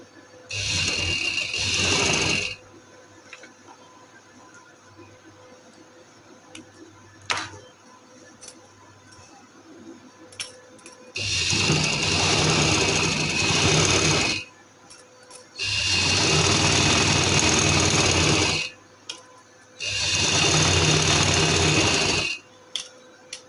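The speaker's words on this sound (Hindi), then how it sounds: "अब हम इसके ऊपर सिलाई लगाएंगे।" A sewing machine stitches over a trouser hem or design in four separate bursts of steady, fast whirring. Quiet pauses with small handling clicks separate the bursts, and the machine sounds close.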